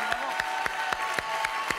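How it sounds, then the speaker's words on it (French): A television studio audience on a French talk show claps in a steady, evenly spaced rhythm. The sharp slaps are moderately loud and continue throughout the clip. "on peut l'applaudir"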